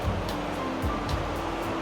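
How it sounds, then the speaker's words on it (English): A bubbling river in the green, misty Aurland fjord valley of Norway, heard as a steady broadband rush of flowing water with soft low surges, fairly close and continuous with no talk. "then you have the bubbling river here"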